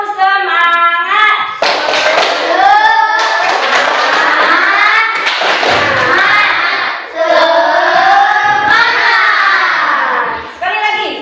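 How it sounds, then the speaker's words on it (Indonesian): A classroom of students performs a rhythmic spirit clap, loud patterned hand claps mixed with children's voices chanting and shouting along in unison. "jadi kita sekarang tepuk semangat dulu"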